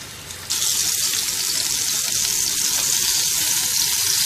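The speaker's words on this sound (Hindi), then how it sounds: "जैसे जैसे ये कबाब फ्राई होते जाएंगे" Kebabs frying in one to two tablespoons of oil in a pan on the stove, a loud, steady, continuous sizzle that jumps up after a brief quieter start and holds alone with no talk.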